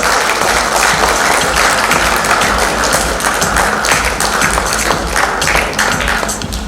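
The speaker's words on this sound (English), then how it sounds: "Let's give them a huge round of applause," An audience at a silver industry conference in Goa gives loud, continuous applause, a thick crackle of clapping hands sustained throughout.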